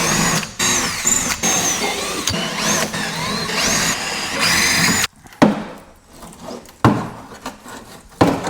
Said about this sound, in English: we need to get a couple rivets drilled and these plates out of the way